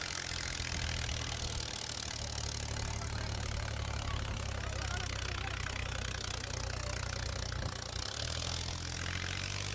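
A tractor engine pulling a heavily loaded trailer in a timed rural pulling contest runs as a loud, steady, low rumble. It holds unbroken for the whole stretch, thick with noise, and faint crowd voices sit underneath.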